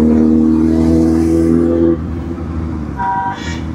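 A black Toyota Fortuner goes by on a road in an army area, its engine a loud steady drone with strong tonal hum that drops midway, followed by a brief horn-like tone.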